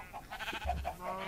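Sheep bleating in the video game Minecraft: a few short, wavering game-animal bleats repeat at close range over a quiet background, with no voices present.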